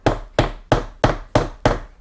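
A hammer drives staples into the corner of a chair cushion with six sharp, evenly spaced blows, loud and close, with no talking.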